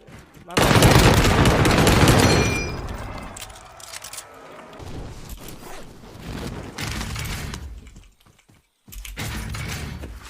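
Automatic StG-44 fire in Warzone Pacific rattles out in a loud, sustained burst near the start, then shorter, quieter bursts follow amid game noise and occasional voices.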